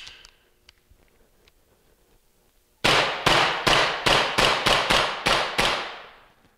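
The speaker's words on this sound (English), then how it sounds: "We're gonna go ahead and shoot a little bit more with the Colt Commander 1911." An Umarex Colt Commander 1911 BB air pistol fires nine sharp, close, loud snapping shots in a quick, slightly uneven rhythm after a few seconds of near silence.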